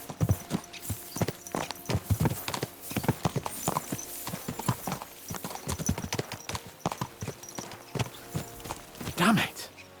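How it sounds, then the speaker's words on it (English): Horses gallop in the medieval video game Kingdom Come Deliverance 2, a steady, close drumming of hooves on the ground, with a brief whinny and a few faint voices in the background. "Let's really spur these horses on, eh?"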